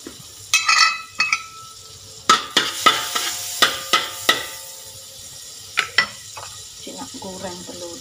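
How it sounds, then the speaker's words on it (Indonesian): An egg fries in a pan for a child's school lunch, a soft steady sizzle with sharp clinks and scrapes of a utensil against the pan at irregular intervals. "Goreng telur dia dulu."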